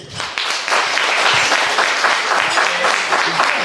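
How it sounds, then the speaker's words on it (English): Guests on one side of a wedding reception crowd clapping on request, a short pause and then a swelling round of applause that holds steady with scattered cheers. "on my right hand side of the crowd, could you please give me a round of applause?"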